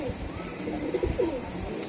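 A female Tota pigeon coos nearby in soft repeated rolling phrases, moderately loud over a faint background hiss, with no clear talk.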